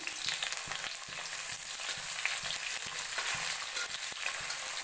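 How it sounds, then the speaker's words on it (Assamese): Onions frying in hot mustard oil in a wok for a fish curry, a steady close sizzle with light stirring clicks running throughout, no voices. "আৰু কেৰাহীত তেল দিছোঁ, গৰম হৈছে। আৰু এতিয়া মই পিঁয়াজ দি দিম।"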